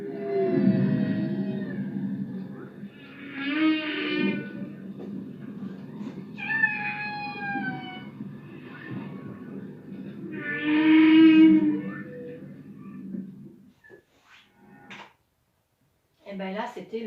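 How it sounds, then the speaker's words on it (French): A recorded whale sings in a series of long, drawn-out moaning calls that rise and bend in pitch, separated by pauses, moderately loud and heard alone before fading near the end. "Et bien là, c'était le chant d'une baleine."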